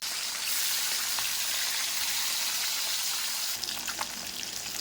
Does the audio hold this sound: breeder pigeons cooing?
no